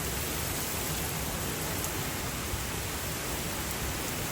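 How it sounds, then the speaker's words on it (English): Heavy rain from Tropical Storm Debby pours down in a dense, steady hiss, a constant wash of sound with no breaks. "it's just like a big sheet of rain"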